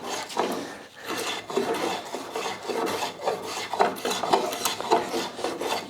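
A rasp files the corners off a wooden handle in rhythmic back-and-forth strokes, close and fairly loud, each rub scratchy and dry, with no talking.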